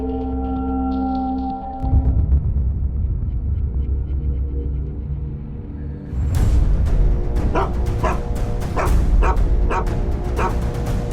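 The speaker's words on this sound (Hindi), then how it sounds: "सर ये कुत्ता यहाँ पे रोज ऐसा ही भौंकता है" A dog barks and yips repeatedly at one spot outdoors, loud and close, in a continuous run of insistent woofs with a brief whimpering lull partway through.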